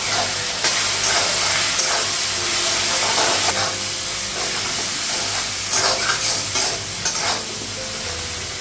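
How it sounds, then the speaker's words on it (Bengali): Spices fry in oil with ginger and garlic paste, a loud, dense, continuous hiss and sizzle with repeated stirring scrapes, close up and without talk. "আদা বাটা লাগাবো, অল্প রসুন বাটা লাগাবো, মশলাগুলো একটু ভেজে নেবো।"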